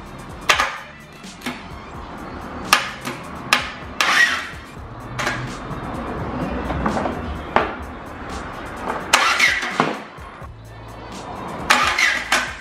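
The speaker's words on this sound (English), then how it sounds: "right now the starter motor has just gone in, and I'm just gonna connect power and hopefully" A starter motor cranks the flywheel of a Volvo 340's B18FT engine during an engine swap, giving irregular clunks and short whirring bursts over a steady background hum, close by.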